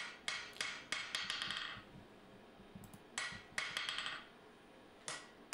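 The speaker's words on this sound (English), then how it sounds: "hammer on it a bit more with the wood" Sharp metallic strikes from hammering a forged knife's spine straight with a piece of wood at low heat, arriving in quick irregular clusters of several blows with short pauses between them.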